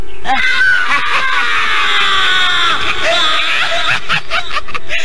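A child screams loudly in a long, sustained, high-pitched cry, with other voices and snickering laughter around it.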